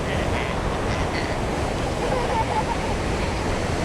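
Huka Falls in New Zealand, a waterfall where a large volume of water plunges about nine meters over a rock face, gives a loud, constant broadband roar throughout, with no pauses.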